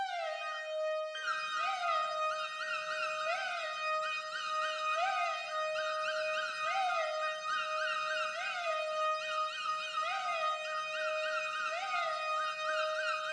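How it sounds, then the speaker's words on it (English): Synth lead from the Cryptic preset of the Cyber Serum bank, a sustained bright tone with rich harmonics that slides up and down in a repeating siren-like swoop every second and a half, loud and alone throughout. "I used the cryptic lead from the Cyber Serum bank"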